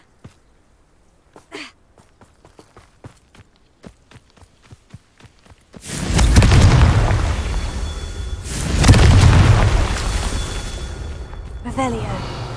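A Confringo fire spell goes off in Hogwarts Legacy, a loud booming blast around six seconds that swells into roaring bursts of crackle and rumble, with a second surge near nine seconds, after a run of light footstep-like taps.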